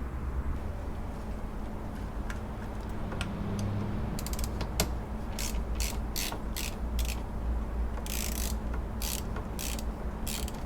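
A ratchet clicks in quick bursts while undoing the car battery terminal on a Subaru Impreza, close and fairly loud over steady garage background noise, with no talking.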